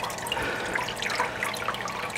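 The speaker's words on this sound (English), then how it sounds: "oil's gonna pour out of this thing all over the place and get all over your hands" Motor oil pours out of a car's open drain plug in a steady, close liquid stream, running continuously through the brief moment with no talk.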